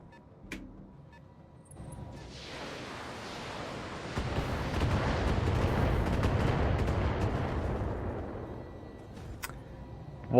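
Short-range missiles fire in the mech game Battletech, a swelling roar of launches and impacts building over several seconds, then fading out, with a sharp thud at the very end and no voices.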